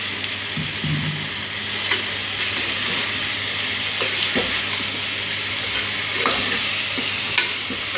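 Shrimp fry in a pan while being stirred, a steady close sizzle and hiss with repeated scraping and clinking of the utensil against the pan, no voices.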